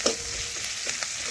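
Thinly sliced yardlong beans, potato and carrot hit a hot frying pan, a brief close sizzle with faint stirring scrapes, no speech.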